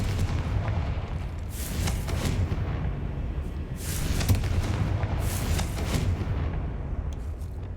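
Confringo fire spell blasts in the Hogwarts video game, a dense run of booming, explosive bursts that rumble continuously with several louder surges, loud and close, with no talking.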